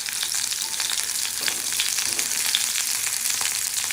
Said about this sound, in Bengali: তাহলে এখন সেজনাটা ভেজে উঠিয়ে ফেললাম।